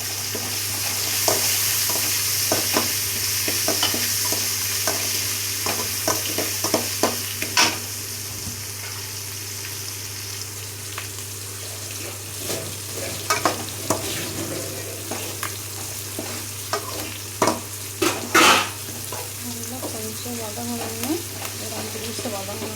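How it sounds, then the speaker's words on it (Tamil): Curry leaves sautéing in oil in a pan for tomato thokku, a steady sizzle and frying hiss with intermittent spatula scrapes and stirring clatter throughout, with no talking. "அப்புறம் கருவேப்பிலை 2 பீஸு, அதையும் போட்டு வதக்கிக்கணும்."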